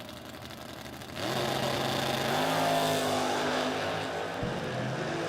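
A Pontiac Firebird and a Ford Mustang drag car sit at a drag strip, a low steady engine rumble that swells suddenly louder after a second and holds at a loud, dense drone with a brief dip near the end.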